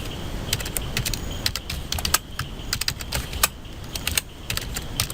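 Code is typed on a computer keyboard in a Java programming lesson: close, rapid clicking keystrokes in uneven bursts, heard alone for about five seconds.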